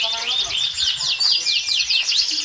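Canary singing at a canary contest in Boyolali: a loud, close stream of rapid, sweeping high trills and chirps repeating without pause, with a faint low murmur of voices underneath.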